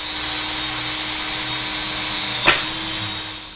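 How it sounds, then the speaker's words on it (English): A power drill bores through stacked spacers on the square-shank spine of a Vise Grip bar clamp to make plug weld holes. It gives a steady, close motor drone the whole time, with a sharp click near the end. "I'm going to drill through the spacers, which I have stacked on here, all the way through the spine for the plug weld holes"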